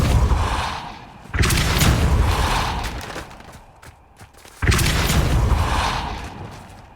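The Depulso spell from the Hogwarts Legacy video game goes off as two heavy, booming blasts, each followed by a rushing tail that fades away. The blasts are loud and come a few seconds apart.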